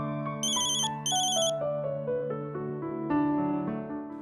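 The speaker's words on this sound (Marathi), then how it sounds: "आरोहीचा फोन." A phone ringtone plays a bright descending electronic melody with layered tones, close and clear, heard alone without any voices.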